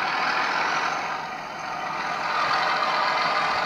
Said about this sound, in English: He's now increasing the revs, and the loco pulls away.